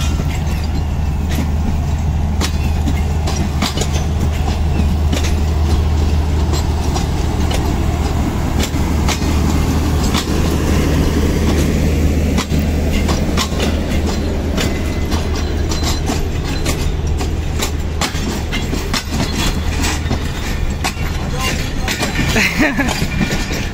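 Awam Express passenger train running on the Karachi to Peshawar line, carriages rattling with a steady loud rumble and clatter throughout, broadband rolling noise with frequent clicks from the wagons.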